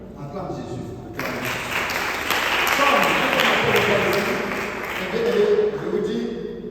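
Church congregation breaking into sustained applause that rises and holds for several seconds, loud and full, with a voice carrying over the clapping.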